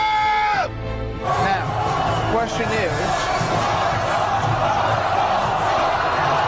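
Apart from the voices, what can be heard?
crowd cheering for a politician in a stadium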